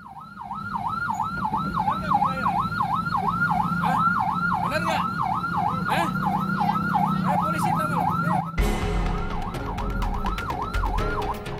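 A wailing ambulance siren cycles rapidly up and down, loud and close, over traffic noise, shifting abruptly in tone near the end.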